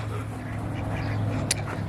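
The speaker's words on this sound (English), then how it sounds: "I love the ducks when they're small in numbers." Ducks quacking outdoors near a nesting area, a steady low chatter of calls with one brief sharper note near the end, no talking.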